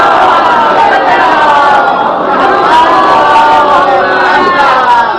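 Majlis audience reciting salawat in unison, a dense crowd chant of many voices swelling steadily, loud and reverberant, filling the hall without pause.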